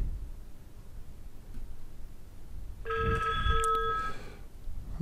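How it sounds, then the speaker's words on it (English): An iPhone rings with an incoming call on a hosted unified communications system: one burst of bright electronic ringtone tones, cut by a short break and lasting about a second, heard over a quiet room background. "It's now ringing me."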